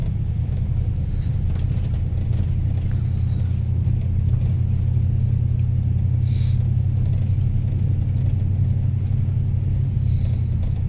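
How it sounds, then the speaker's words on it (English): A 2001 Chevy Suburban 2500 three-quarter-ton four-wheel drive drives through snow, a steady deep cabin rumble of engine and road noise holding level throughout, with a faint high tick now and then. "Driving the 2001 Chevy Suburban 2500, 3/4 ton, 4-wheel drive."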